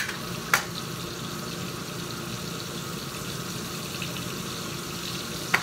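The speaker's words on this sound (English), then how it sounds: "While the fish is frying," Steady low sizzling of fish frying in oil, constant and close, with a couple of sharp clinks at the start and end.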